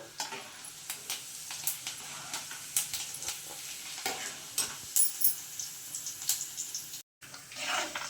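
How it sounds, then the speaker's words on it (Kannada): Cumin seeds and chana dal fry in hot oil for a village-style tamarind chitranna, a steady close sizzle broken by frequent scraping stirs of the pan, with no talking. "ಜೀರಿಗೆ ಸೇರಿಸ್ಕೊತಾ ಇದ್ದೀನಿ ಕಡಲೆಬೇಳೆ ಸೇರಿಸ್ಕೊತಾ ಇದ್ದೀನಿ ಬೇಳೆ ಇವೆಲ್ಲ ಸ್ವಲ್ಪ ಫ್ರೈ ಆಗಬೇಕು"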